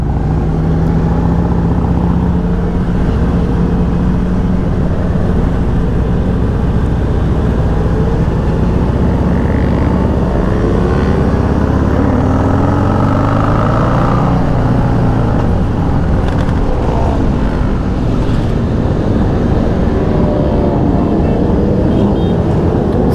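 Crowd of sport motorcycles at a rideout, engines droning loudly and continuously as bikes pass close by, with rising and falling engine pitches layered over steady rumble.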